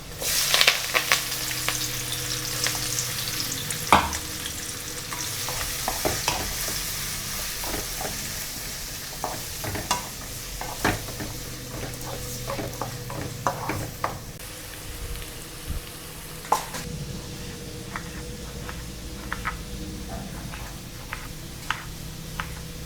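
Garlic, shallots, green chilies and curry leaves fry in hot oil with a long steady sizzle, punctuated by frequent crackling pops and scraping stirs from a spatula, close up, with no speech.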